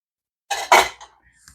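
A metal whisk is pulled from a kitchen drawer, giving a short burst of clattering and jangling utensils followed by a couple of faint, brief knocks and tail-off rattles.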